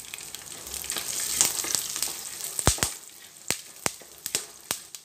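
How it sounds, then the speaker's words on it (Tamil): Peanuts crackle and pop in a hot pan, sharp irregular snaps over a soft steady sizzle. "கல்லை நல்லா வந்து வெடிக்க ஆரம்பிக்குது."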